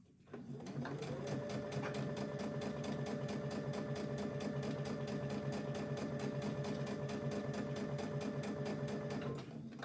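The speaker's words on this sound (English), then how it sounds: "Don't take your eyes off while you're sewing, Ashley." A sewing machine runs steadily, stitching a fabric cup cosy, with a fast, even mechanical clatter and a constant motor hum that keep going without pause for about ten seconds, close and loud.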